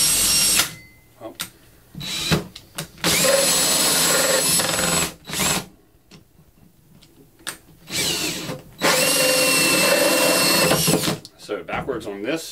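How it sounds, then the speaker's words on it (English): A power drill runs a hole saw in reverse, with loud whirring bursts that repeatedly start and stop, some lasting a few seconds, separated by brief quiet gaps. "Drill one backwards, see what happens."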